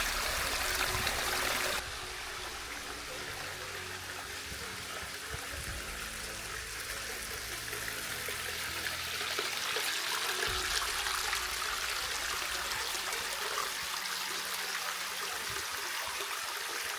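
Mountain stream rushing through the Šumnik gorge above Lepena in the Soča valley, a steady broad roar of flowing water close by, continuous throughout with no talking.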